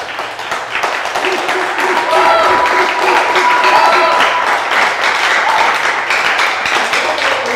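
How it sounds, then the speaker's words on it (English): An audience at a comedy-style show applauds in a dense, sustained wash of clapping that holds steady for several seconds, with voices mixed in among the crowd. "you can clap if you want"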